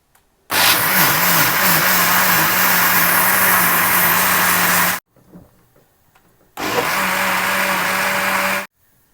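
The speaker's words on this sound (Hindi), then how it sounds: "ब्लेंडर में चावल और दूध शामिल करके इसको ब्लेंड कर लेंगे।" A kitchen blender grinds rice and milk in two loud, steady bursts, a long run followed by a brief pause and then a shorter second run, its motor whining evenly close by with no talk.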